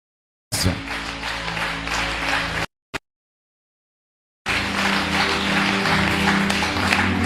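A church congregation applauding and acclaiming during a service: a dense burst of clapping and voices, a sudden cut to silence with one brief blip, then a second sustained, loud burst.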